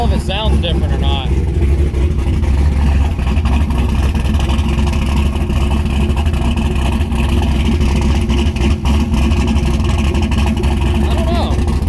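A Mazda Miata engine, freshly fitted with a reworked fuel system, runs at a steady idle for the whole stretch, a close, constant low rumble with voices talking over it.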